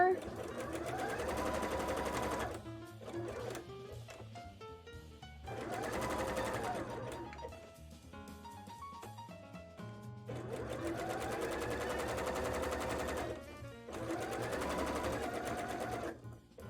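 A sewing machine stitches elastic onto a bra in three long bursts of rapid whirring, separated by short pauses with small clicks and handling sounds, close and clear.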